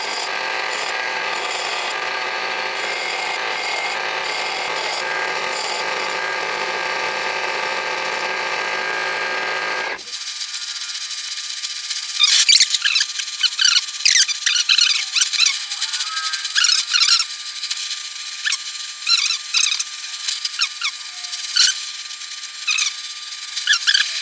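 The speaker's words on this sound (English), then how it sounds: "So that's what I'm going to do on the bike sander." A belt sander works a piece of steel bar stock, tapering it into a wedge for a motorcycle floorboard mount on a Shovelhead custom. A steady loud grinding drone is followed by rough intermittent scraping and rubbing, close and without talk.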